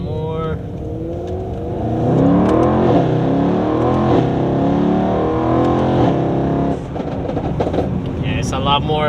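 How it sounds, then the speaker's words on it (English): A Mercedes-AMG E63s fitted with PTG carbon fiber intakes accelerates, its deep intake rumble swelling and holding loud for several seconds, with voices before and after. "you hear like a lot more of the rumble of the intake on acceleration"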